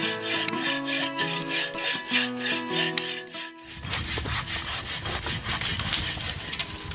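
A hand saw cuts into a standing tree trunk in a snowy winter wilderness to fell it, steady back-and-forth rasping strokes loud and close, the stroke rhythm shifting to rougher, denser sawing partway through.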